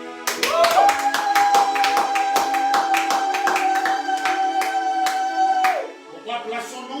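A church congregation claps hands in acclaim, a rapid, loud rhythmic clapping that runs for several seconds over a sustained organ-like tone and voices, then stops.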